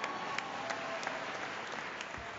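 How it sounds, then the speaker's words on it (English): A graduation audience at a Nova Southeastern University commencement applauds, a continuous, distant wash of clapping filling a large hall, fairly faint and even throughout with no voices. "Once again, you guys can clap"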